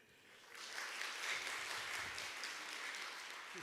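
An audience at a church special lecture claps warmly, applause rising quickly and holding at a steady, even patter for several seconds.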